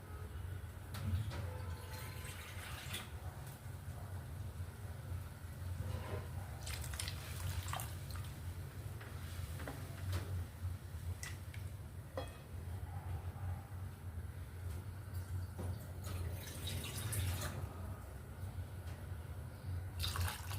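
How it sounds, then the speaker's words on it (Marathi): Water trickles and splashes into a pot, with intermittent pouring bursts and drips against a low background hum. "थोडंसं पाणी ॲड करेन यात"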